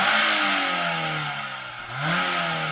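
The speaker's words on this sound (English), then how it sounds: "Let's start off by hearing what the standard car sounds like." A stock Mazda MX-5 Roadster engine revs loudly and close up, its pitch sagging as the revs fall, then climbing sharply again near the end, with no talking.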